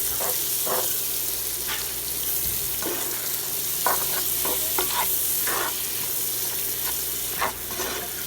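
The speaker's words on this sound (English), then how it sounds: "We're gonna saute this up" Onion and garlic sizzle steadily in a hot pan as they are sautéed for a shrimp stuffed twice-baked potato filling, with a constant frying hiss and occasional stirring scrapes, close and alone without talk.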